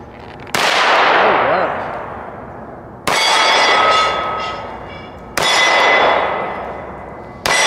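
A Tisas Night Stalker 10mm pistol fires at a shooting range: four loud, sharp shots spaced a few seconds apart, each with a long ringing decay.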